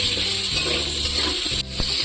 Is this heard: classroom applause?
no